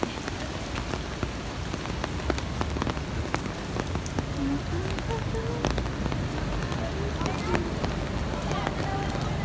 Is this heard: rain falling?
yes